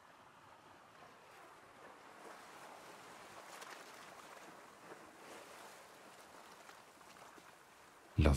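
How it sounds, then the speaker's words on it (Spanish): Gentle sea waves washing in a continuous soft hiss, faint and distant-sounding and rising slightly in places, with a brief loud thump at the very end. "se hace un cómodo silencio en el que solo se escucha ese mar"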